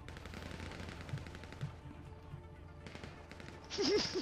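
Rifle shots crackle in GTA V Online in quick bursts, fairly faint with a distant, echoing quality, then a louder burst of activity near the end; a voice speaks faintly underneath.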